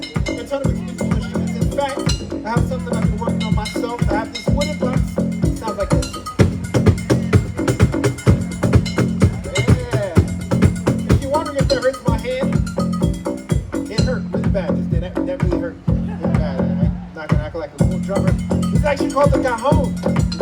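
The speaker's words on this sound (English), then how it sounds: "I have this wooden box. Sounds like this." A Peruvian cajon, a wooden box drum, is played in a steady driving rhythm of deep bass thumps and sharp slaps, close and continuous for about twenty seconds.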